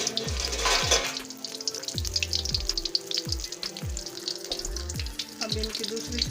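Pakoras deep-fry in a pan of hot oil for kadhi, making a continuous bubbling sizzle, close and fairly even, with low droning, voice-like tones now and then underneath.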